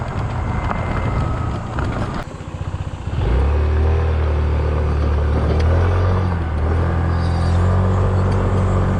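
A 2021 SYM Symphony ST 200 scooter rides along a road, its engine droning loud and close over heavy low rumble and wind buffeting, with a brief dip as it pulls away before settling into a steady run.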